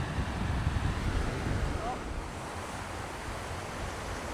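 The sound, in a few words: waves on a beach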